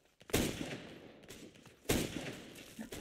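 Two sharp, loud gunshots in a video game, spaced about one and a half seconds apart, each with a short decaying tail over faint background noise.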